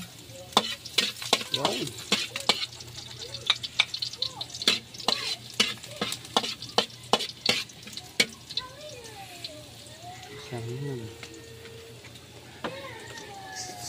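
Garlic sizzles while being stir-fried in a pan, close up. A utensil scrapes and taps against the pan in a rapid, uneven rhythm, and a voice speaks briefly.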